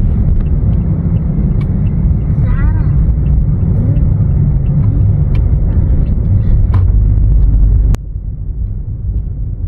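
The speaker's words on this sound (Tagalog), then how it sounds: "Daming sasakyan to no." Heavy road traffic on a main road heard from inside a moving car during a first drive, a loud continuous engine and road rumble with vehicles passing, dropping in level abruptly near the end.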